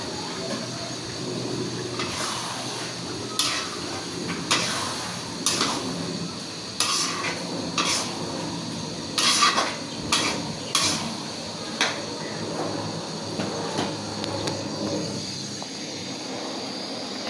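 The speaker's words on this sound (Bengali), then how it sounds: "একটু নেড়ে ছেড়ে দিলাম।" A spoon stirs pulao rice in a cooking pot, producing intermittent scrapes and metallic clinks spaced a second or two apart at moderate volume, with no talking.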